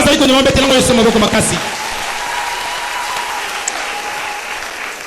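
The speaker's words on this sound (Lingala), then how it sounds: "Si tu peux le croire, tu peux acclamer pour le roi des rois." A church congregation bursts into loud applause and cheering, dense clapping for about a second and a half before dropping to a softer, sustained crowd murmur with scattered claps.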